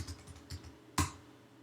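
A few quick, clicky keystrokes tap in a short run, followed by one sharper, louder key strike, close and crisp in a quiet room.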